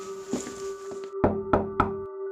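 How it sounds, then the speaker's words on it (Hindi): Knocks on a wooden door ring out close and clear, a couple of light taps followed by three firm, evenly spaced raps over a steady low tonal drone, with no talking. "दरवाजे पर दस्तक दी।"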